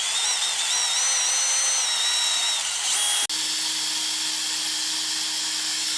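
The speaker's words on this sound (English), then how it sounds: "And then finally go over it with a wire brush." A power-driven wire brush cleans the counterbores of a part from a Yates American B244 woodworking machine, a close, high-pitched whirring scrub that cuts off abruptly partway through and is followed by a lower steady motor hum, with no talking.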